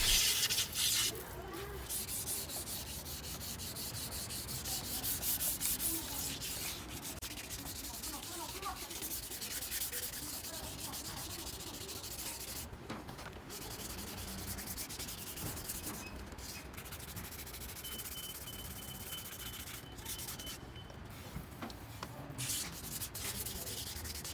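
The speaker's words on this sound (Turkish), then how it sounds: "2000'lik zımpara ile astar tozlarından kurtuluyoruz." Steady, continuous scratchy rubbing of 2000-grit sandpaper across dried primer on an Opel Kadett panel, close and even in rhythm for the whole stretch, with no talking.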